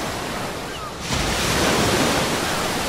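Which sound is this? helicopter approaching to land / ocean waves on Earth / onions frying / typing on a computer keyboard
ocean waves on Earth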